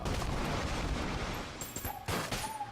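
Dense, continuous gunfire from the Enter the Gungeon video game, with rapid overlapping shots and bursts forming a loud, busy barrage throughout and a brief dip partway before the firing resumes.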